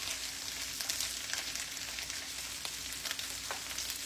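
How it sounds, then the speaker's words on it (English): Andouille sausages sizzle and fry in a big skillet, a steady close crackle with occasional sharper pops and scrapes as they are stirred around. "All we got to do is just kind of stir them around this big old skillet. Let them cook a little bit."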